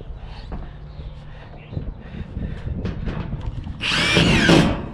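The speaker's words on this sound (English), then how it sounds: "So I'm just gonna go ahead and put some more screws in here." A power drill whirs in short bursts as self-tapping screws are driven without pre-drilling, ending in a louder, sustained high-pitched spin; faint rustling and handling noises in between.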